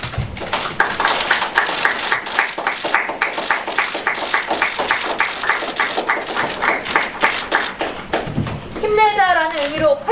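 Group of people clapping together after a labour-management-government agreement on industrial accident insurance for delivery workers is signed; a steady run of claps over room noise and background voices, ending with a short cheer.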